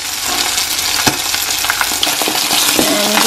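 Peppers mixed into cooking egg in a hot pan, a loud continuous frying sizzle with scattered scraping and tapping of the utensil, close up and with no talking.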